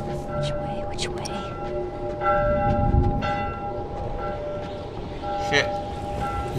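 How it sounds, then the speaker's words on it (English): Church bell tolling in The Last of Us video game, steady tones ringing through the game ambience along with footsteps and movement noises. "I hear a bell."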